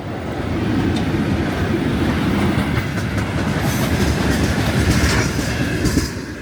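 A long freight train of around fifty wagons rolls steadily past in cold, snowy weather, its continuous low rumble and clickety-clack of wheels holding constant and loud throughout with no talk.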